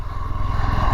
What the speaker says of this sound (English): तो एक बार इसका थ्रॉटल रिस्पॉन्स चेक कर लेते हैं.